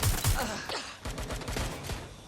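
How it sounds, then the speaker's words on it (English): Video game gunfire in Watch Dogs: Legion, a burst of close shots followed by a rapid run of sharp repeated reports through the rest of the moment, with a gasp or grunt mixed in early. "Gunfire!"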